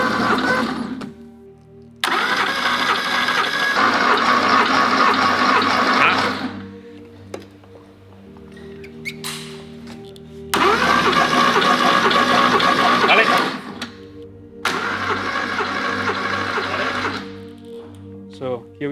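A Porsche 911 engine cranks over on the starter during a cylinder compression test, in three long churning bursts separated by pauses, loud and close, with brief speech between them.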